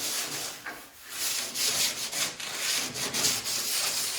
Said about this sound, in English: I'm just gonna give it a real quick scuff